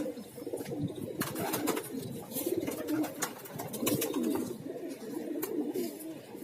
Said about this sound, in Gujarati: કબૂતર બધા ખુલી નાખ્યા છે અડધા મિત્રો માથે બેઠા છે ને અડધા મિત્રો અંદર છે